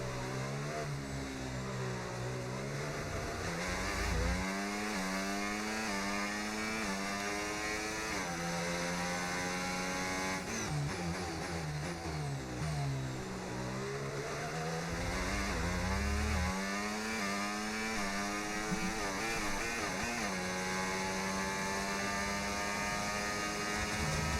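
An F1 race car engine in the F1 25 video game revs hard and steadily for the whole stretch. Its pitch sweeps up and down over and over through gear changes at a constant loud level, with no voices.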